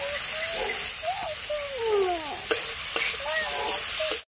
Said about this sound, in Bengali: বন্ধুরা, মশলাটা সুন্দরভাবে কষিয়ে নিচ্ছি